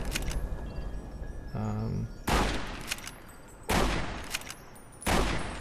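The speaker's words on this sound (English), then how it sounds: "Why don't I just shoot the young ones?" Gunfire in Fallout: New Vegas aimed at young deathclaws: several loud, close bursts of shots in separate volleys, each with a ringing decay, and a short electronic tone between the first volleys.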